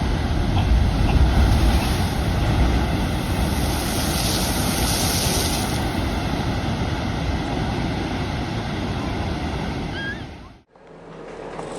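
Heavy North Atlantic winter storm surf pounding against a lighthouse, a loud continuous roar of crashing waves and spray with wind buffeting the microphone, cutting off abruptly near the end.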